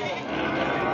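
Goats bleat at a Saturday livestock auction in Lemery, Batangas, with a brief bleat rising over a steady murmur of nearby voices and crowd noise.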